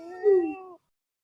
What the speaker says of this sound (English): I think that's a good way to start the stream with a cat meow